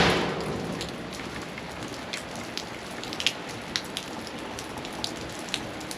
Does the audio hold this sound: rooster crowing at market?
no